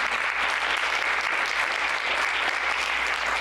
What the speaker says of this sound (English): I'd like to also recognize and applaud Chad Jewell, who eloquently